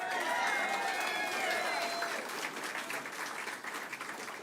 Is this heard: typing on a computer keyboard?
no